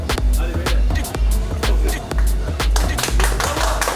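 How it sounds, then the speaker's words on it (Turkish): A small group claps in steady encouraging applause for a contestant during a super-hot chocolate eating contest in a shop, the rapid claps close and loud with talk mixed in. "İsmail'e bir moral alkışı geliyor."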